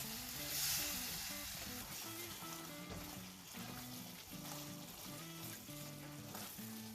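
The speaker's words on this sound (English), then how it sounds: "I'm going to add the tomato puree here. And cook till the oil separates." Tomato puree sizzles and fries in hot oil for a chole masala, a steady crackling hiss with soft stirring scrapes running throughout, close and fairly quiet.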